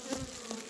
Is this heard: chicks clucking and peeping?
no